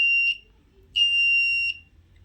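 Homemade fire alarm buzzer triggered by an NTC thermistor sounding in two shrill electronic beeps, a short one followed by a longer sustained tone, loud and close.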